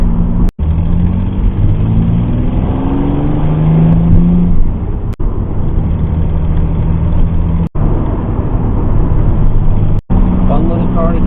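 A Pontiac Fiero GT's engine, after exhaust manifold repairs, hums steadily while driving, rising and falling in pitch with gear changes, a few sharp clicks breaking through.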